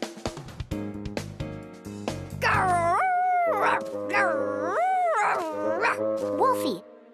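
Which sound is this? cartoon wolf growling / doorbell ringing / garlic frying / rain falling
cartoon wolf growling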